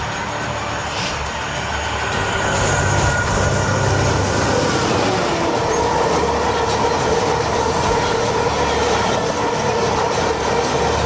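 A train rolls past on railway tracks with a loud, steady rumble that builds within the first couple of seconds and then holds, with wheel clatter and a faint metallic squeal over it.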